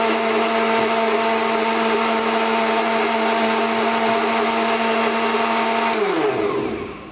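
A Panasonic blender grates coconut with a loud, steady motor whine that runs unbroken, then winds down and cuts off automatically at the end.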